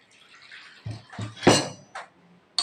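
Water swished in a pot that held ground coconut, then poured out: a few short splashes and pours, close and moderately loud, with brief pauses between.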